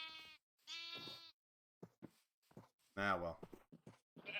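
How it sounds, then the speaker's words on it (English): Minecraft sheep bleat loudly twice in quick succession, a wavering nasal cry up close, followed by a person speaking briefly and another bleat near the end. "Hello, sheeps. Give me your wool"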